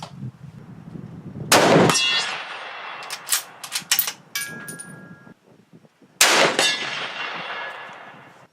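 Several sharp metallic impacts ring out from a Savage Axis 7mm-08 rifle hitting a steel target at 100 yards: a loud shot with a clang near the start, a cluster of quick pings in the middle, then another loud crack with ringing decay.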